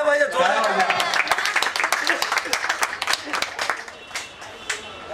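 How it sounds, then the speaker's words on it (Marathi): An audience at a senior citizens' gathering in Dahisar breaks into brisk applause, many hands clapping densely at first and then thinning into scattered, fading claps, with some voices talking underneath. "जोरदार टाळ्या झाल्या पाहिजे"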